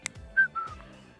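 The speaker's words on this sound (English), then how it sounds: "Man, that was a bad whistle." A man whistles a short, thin two-note phrase, close and fairly clear, with faint low rumble and a small click beforehand.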